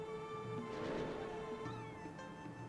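A cat meows in the Chrono Cross video game, a drawn-out wavering cry or two rising over soft game music, fairly quiet and with no talk.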